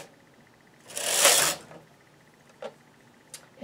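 A hand-pushed knitting machine carriage sweeps across while knitting white yarn, one loud rasping pass followed by a couple of faint clicks, close and otherwise quiet.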